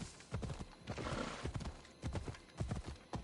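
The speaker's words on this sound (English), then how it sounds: "I'm worried my horse will run off." A horse in Assassin's Creed Odyssey trots with rhythmic, close clip-clop hoofbeats and a whinny near the start, the steady footfalls continuing throughout at moderate loudness.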